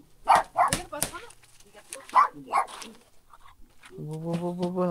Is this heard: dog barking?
yes